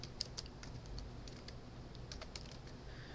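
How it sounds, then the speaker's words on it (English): Someone types a search on a computer keyboard, a quiet, fairly quick run of light key clicks over a low background hum. "start typing something in and watch what happens"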